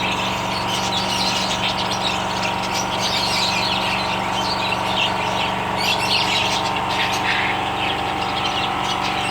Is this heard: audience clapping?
no